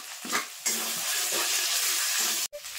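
Ginger-garlic and cumin-coriander spice pastes sizzling in hot oil with fried onion, a continuous bright hiss with soft stirring scrapes for a few seconds.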